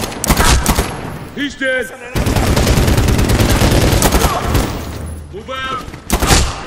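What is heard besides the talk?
gunfire in the video game Medal of Honor: Warfighter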